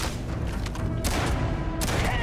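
Shotgun blasts in a video game, a few loud booming shots over continuous game noise.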